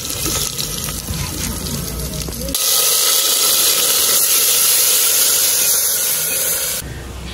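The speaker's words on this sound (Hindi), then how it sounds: "अच्छा साबुन के साथ पैर धो रही फातिमा?" Water runs steadily and loudly from a tap while feet are washed with soap, a constant hissing splash that shifts in tone partway through as the flow is moved.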